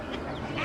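A duck gives a short, faint quack, heard briefly at an outdoor Lag BaOmer gathering.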